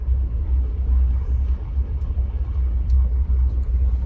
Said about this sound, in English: Yeah, wow, there's a car.